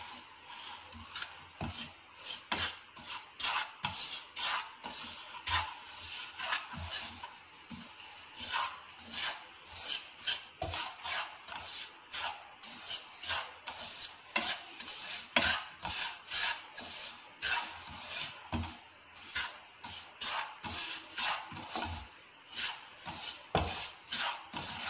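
Rava (semolina) being roasted in ghee in a pan for kesari, a steady dry scraping and rubbing of a spatula through the grains with rhythmic strokes, close and continuous, no talking.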